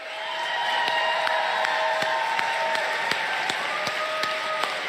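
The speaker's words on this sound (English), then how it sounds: "Really odd way of clapping." At a GOP speech, a large crowd applauds in a sustained, dense wash of clapping with a regular rhythmic beat running through it, loud and continuous throughout.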